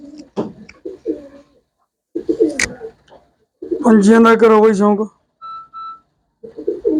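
Someone speaks in short bursts, then a pigeon's throaty, rolling coo rises clearly for about a second before talk resumes.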